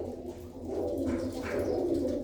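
A Billa pigeon coos in low, throaty, sustained murmurs close by, with faint chirps and no talk.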